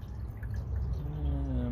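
Water poured into the water pump of an old Dodge 400 big-block engine, a faint, short trickle and gurgle with low background rumble.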